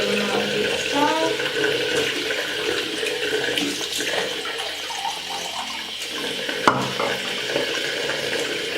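Hot water runs steadily from a bathroom sink tap, a continuous close splashing wash with faint clatter of cleaning over it.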